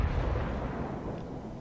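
Su-122A self-propelled artillery in World of Tanks fires a heavy shell, a deep booming blast with a low rumbling tail that fades over a second or two, heard alone.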